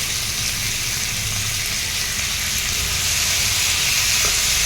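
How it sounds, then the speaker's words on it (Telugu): Tomatoes added to a hot pan while preparing a paneer curry sizzle loudly and continuously, a dense frying hiss that steadily builds slightly as they are stirred. "టొమాటోస్ అవి కూడా వేసేసుకొని మంచిగా కలుపుకోవాలి"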